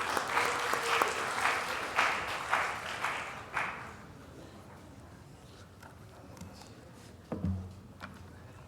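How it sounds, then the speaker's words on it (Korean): Big applause from a church congregation welcomes a testimony speaker to the front during a worship service. Loud clapping lasts about four seconds and then fades to a quieter room with a few scattered knocks and shuffles. "그럼 우리 간증자 나오실 때 큰 박수로 같이 맞이해 주시기 바랍니다."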